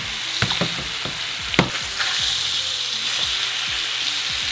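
Thick redfish slices fry in butter in a pan that is not quite hot, giving a steady close sizzle with a few sharp pops and spatters near the start, no voices.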